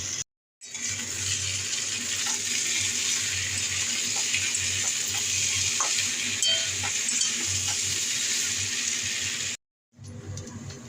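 Papaya pieces frying with spice paste in a pan, a steady close sizzle with light stirring scrapes, stopping abruptly near the end before resuming.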